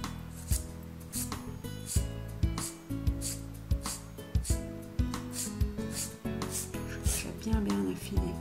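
Nail file rasping along the sides of a gel nail modelled on tips, a quiet repeated scraping in regular strokes about once a second, close and without speech.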